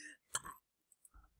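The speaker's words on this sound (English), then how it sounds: "That was a really weird burp, and it was also kind of awkward." A short, guttural burp comes from a person indoors, quiet and close, with a few small clicks and a low trailing rumble after it.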